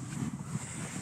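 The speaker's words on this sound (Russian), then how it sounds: "Ветер подул" Wind buffets the microphone outdoors over a river in late autumn, a low rumbling gusty noise with a soft hiss throughout.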